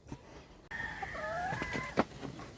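Chickens on a poultry farm cluck and squawk close by, with a drawn-out crow rising midway and a sharp loud call near the end.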